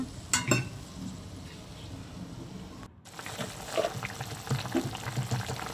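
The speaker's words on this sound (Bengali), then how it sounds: "এরপর আমি এর মধ্যে জল দিয়ে দেবো।" Water is poured into a cooking pot over a hot base, producing a close splashing and hissing sizzle with liquid bubbling, interrupted by a brief gap before the bubbling and sizzle resume.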